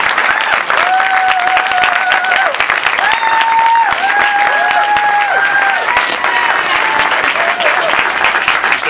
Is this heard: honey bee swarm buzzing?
no